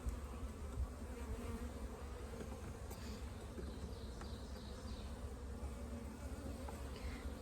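Honey bees in an opened hive box during a full hive inspection, a steady dense buzzing drone that holds at an even level throughout, close and continuous with no voices.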